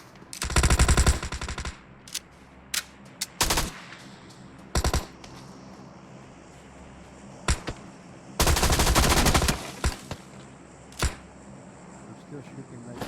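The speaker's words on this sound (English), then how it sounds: "I'm still shooting like a boss." Gunfire from the video game PUBG Mobile comes as loud bursts of automatic fire and scattered single shots over several seconds, with players talking in the background.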